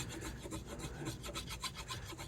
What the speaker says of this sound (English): We can move on to the sandpaper.